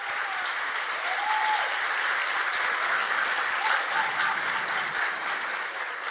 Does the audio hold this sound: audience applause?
yes